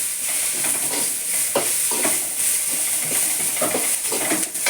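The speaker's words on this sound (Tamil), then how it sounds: "அது எண்ணெய் ரொம்ப ஊற்றல, கம்மியாக தான் ஊற்றி வதக்கணும்" Onions and potatoes sauté in a little oil for samosa filling, a close crackling sizzle broken by repeated stirring scrapes.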